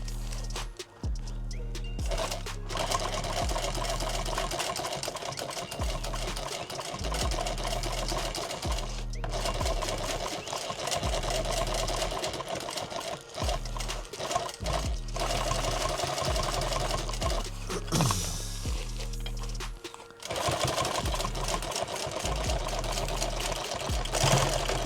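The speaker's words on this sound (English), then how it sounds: "I don't want to sew backwards through all that bulk" A sewing machine stitches through thick, bulky layers of fabric on a gear rig build, running in long rapid bursts of dense rhythmic clatter, close and loud, broken by brief pauses, with no talk.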